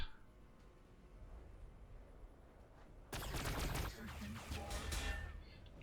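Massed gunfire from units in the Warhammer 40000 Battlesector strategy game, a Blood Angels versus Necron match, erupts suddenly after a quiet stretch and continues as a dense, loud volley of overlapping shots and crackling bursts.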